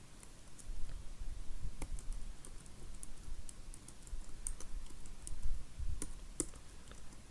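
Computer keyboard typing in quick, uneven bursts of clicks with short pauses, entered during a Windows 11 setup; close and fairly quiet, with no talking.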